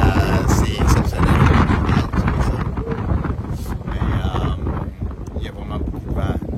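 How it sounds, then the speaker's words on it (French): Strong wind gusts roar across a park, buffeting the microphone with a loud, continuous rumble, while people talk over it. "c'est toujours beaucoup de vent ici, à ce parc"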